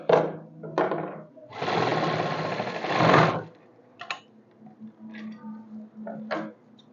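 A sewing machine stitches a pair of straight pants in a tailoring class, with one sustained whirring run of rapid stitching after a short burst. Soft handling noises and faint speech-like sounds surround it.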